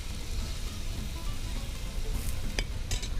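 Tomatoes and beef simmer in a pot for beef pulao, giving a steady low bubbling and sizzle with a few brief clinks of a spoon near the end, no talking.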